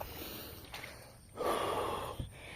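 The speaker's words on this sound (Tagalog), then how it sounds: "Hinihingal yung nagbablog." A person, a blogger out planting lemongrass, pants and gasps heavily nearby, with sharp snorting breaths and a long loud exhale.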